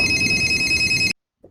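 Telephone ringing in the 2002 horror film Phone, one loud electronic bell ring lasting about a second that cuts off abruptly, followed by a brief faint low sound.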